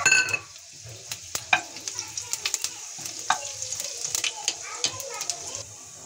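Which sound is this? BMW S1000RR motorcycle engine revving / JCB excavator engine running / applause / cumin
cumin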